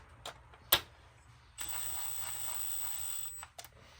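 Bolts are tightened to compress a valve spring on a BMW 335d, giving faint mechanical clicks and one sharp metallic tick, then a steady thin whine and a few final clicks.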